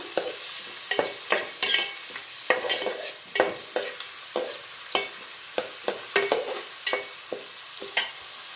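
Onions fry in a hot pan for a paneer capsicum gravy, a steady sizzle broken by frequent sharp scrapes and clacks of a spatula stirring, close and fairly loud, with no talking.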